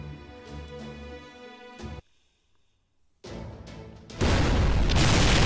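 Napoleon's cannon fires in the game Fate/Grand Order: after tonal game music and a near-silent pause, a loud, rough blast erupts and roars on steadily to the end.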